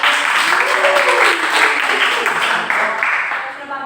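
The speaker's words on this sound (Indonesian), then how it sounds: "Terima kasih dan tepuk tangan untuk" A classroom group claps for a student presentation in a microteaching session, producing steady, fairly loud applause that fades slightly toward the end, with some voices mingled in.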